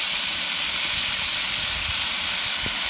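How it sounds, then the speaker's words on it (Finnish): Meat sizzling on a hot home grill during a barbecue buffet cookout, a steady dense hiss filling the whole clip with a few faint low knocks, close and continuous with no talk. "tää lihan tirinä ääni, kuunnelkaa. Ai että, siinä se tirisee."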